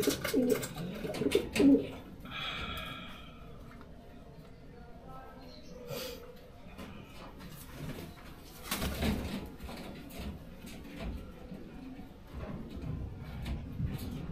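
Racing pigeons arriving at a loft after a derby race, with soft cooing from a pigeon early on amid faint rustling and background ambience; a voice speaks briefly.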